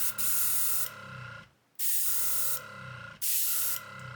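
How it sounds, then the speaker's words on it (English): Gaahleri Serenair airbrush spraying with its air compressor running, giving three loud, steady hissing bursts separated by brief pauses, close up with no talking. "turn the compressor on, there we go."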